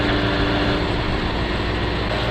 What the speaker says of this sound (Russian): Ну вот наш ЗИЛок работает